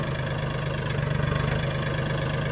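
A Mahindra 1635 tractor engine idles close by in a steady low rumble with a slight knock. The sound holds evenly for the whole moment with no voices over it.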